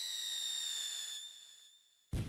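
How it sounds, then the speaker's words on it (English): A fireworks shell launched from a tube in the Pyroworks video game gives a bright whistling tone that fades over about two seconds, then ends in a sudden sharp bang. "Put a bunch of stuff like firecracker and stuff in the tube, on top of the shells."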